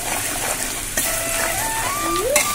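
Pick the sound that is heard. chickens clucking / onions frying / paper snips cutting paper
onions frying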